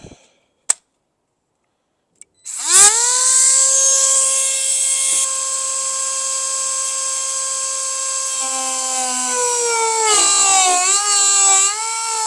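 Power tool cutting into the fiberglass body of a New Edge Ford Mustang during a hood fastener install: after a couple of faint clicks, a loud, steady high-pitched whine runs for about nine seconds, wavering near the end.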